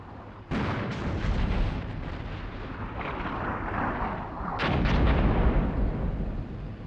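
Artillery fire in the Cold War tank game Armored Brigade 2: two heavy booming blasts, the first sharp, the second louder and longer, each rolling into a long rumbling roar of shell impacts.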